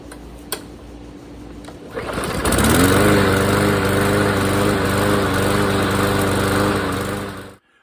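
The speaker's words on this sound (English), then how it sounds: "The lawnmower is fixed, back up and running" Quiet at first, then a freshly repaired gas lawn mower starts and runs loud and close with a steady buzzing drone before cutting off abruptly.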